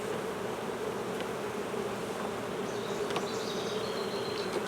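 Honey bees buzz steadily around an apiary hive, a dense, even hum that holds throughout at moderate volume, with a few individual bees zipping close past.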